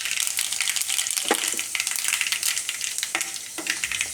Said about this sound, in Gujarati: તો તેલ આપણું ગરમ થઈ ગયું છે. એમાં આપણે પહેલાં રાઈ નાખીશું અને મેથી.